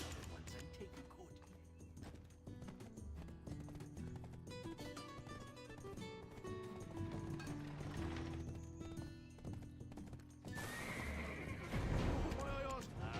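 Horse whinnying in the video game Black Desert, a high neigh rising over game music, soft hoof clip-clop and in-game voice dialogue, ending with a brighter burst of effects.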